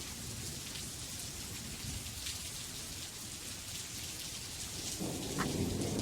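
Steady heavy rain hisses in an animated storm scene, with a low thunder rumble swelling near the end, loud and continuous, with no voices.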